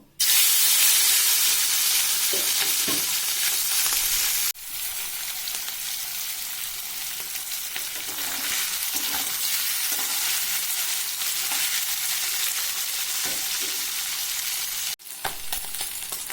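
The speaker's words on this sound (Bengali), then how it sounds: "কড়াইতে আমার তেল গরম হয়ে গিয়েছে এবারে মাছগুলো প্রথমে ভেজে নেব" Small fish, rubbed with salt and turmeric, fry in hot oil in a kadai with a loud, continuous crackling sizzle that spikes at the start and then settles, broken by brief clatters, with no talking.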